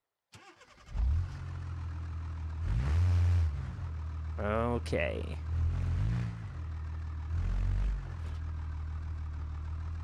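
A Dodge Ram 3500 tow rig truck engine in BeamNG Drive runs at a steady low idle throughout, with a few brief rev swells and a short mechanical whine midway, while someone speaks over it.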